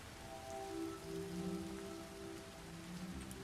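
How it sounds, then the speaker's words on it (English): Steady rain from a video game hisses evenly and fairly softly for a few seconds, with faint low tonal hums underneath and no talking. "I want rain sounds"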